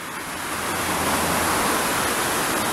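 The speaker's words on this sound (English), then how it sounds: "Big water outlet." A large water outlet pours into the River Taff in Merthyr Tydfil, a loud, dense, continuous roar of rushing water close by with no speech over it.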